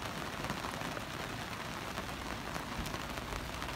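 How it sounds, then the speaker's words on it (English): Steady rain falls on a sailboat anchored off the west end of Tortola, a dense, even hiss of drops pattering on surfaces with no pauses and no voices. "Raining here on the west end of Tortola."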